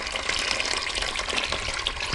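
Tap water runs steadily through a newly fitted home water supply with a cylinder-based system and filter, a close, continuous hissing gush with no pauses.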